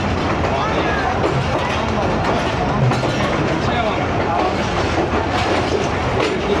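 Two trains pulling into a station side by side on a Pakistani rail journey: steady, loud rumbling of rolling cars and wheels with clickety-clack, continuous throughout with a faint murmur of voices underneath.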